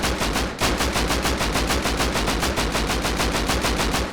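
Rapid, evenly spaced gunfire in the survival game Rust, a steady run of loud near shots with a brief gap early on, dense and continuous with no talk over it.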